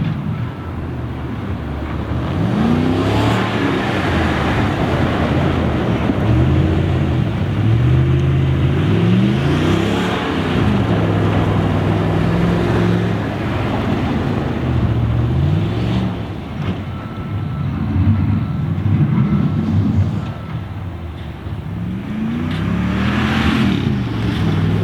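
A Ram pickup rolls along on Nokian Hakkapeliitta LT3 studded winter tires, giving a steady loud road and engine rumble with wind buffeting the microphone and gentle rises and falls in engine pitch throughout.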